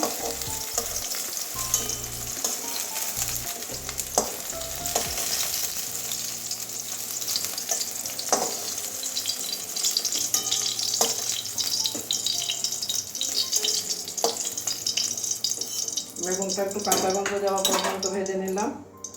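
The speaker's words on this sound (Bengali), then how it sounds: "তাও আমি একটু ভেজে নিচ্ছি বেগুনটা" Eggplant frying in oil in a pan, a loud, close crackling sizzle with stirring scrapes and a faint voice underneath, ending with a short burst of running water.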